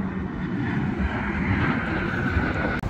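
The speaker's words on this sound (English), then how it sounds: "is a Southwest flight" Southwest Airlines plane at Las Vegas airport, heard from behind a fence: a steady, even jet-engine roar with a whining tone, continuous and fairly loud at middle distance, with no talk.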